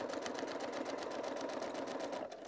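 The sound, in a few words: sewing machine stitching foundation paper piecing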